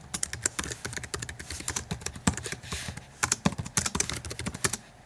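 Rapid typing on a computer keyboard while entering a Mishnah heading into a web dashboard, with close, crisp key clicks in uneven bursts and brief pauses, no voices.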